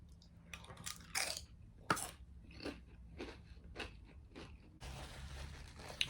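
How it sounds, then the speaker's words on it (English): Crunchy chips eaten as a side with a Firehouse Subs meal: close, irregular bites and chewing crunches, fairly faint, with a brief rustle near the end and no talking. "these chips were the perfect side. A little crunchy texture."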